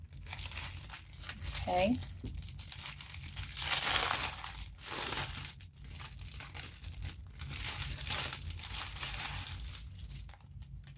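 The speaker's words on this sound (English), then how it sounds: "I'll take it out of the plastic. Cover your ears, because there will be crinkles." Plastic wrapping crackling and crinkling as purple fabric is pulled free, loud bursts of crisp rustling coming and going over several seconds, close up, with someone talking at moments.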